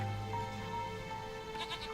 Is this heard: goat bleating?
yes